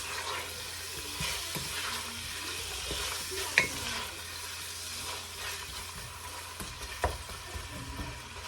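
Chopped onion fries in a pan for Nigerian egusi soup in a village kitchen, a steady close sizzle running throughout with occasional sharp clicks from stirring.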